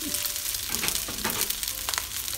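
Nasi goreng stir-fried with bird's eye chili sizzles and crackles loudly in the pan. Brief scraping strokes of the spatula cut through the constant frying, with no one talking.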